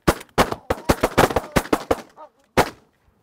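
A rapid volley of about ten shotgun blasts rings out at a Canada goose hunt in Alberta, ending in one final shot after a short pause.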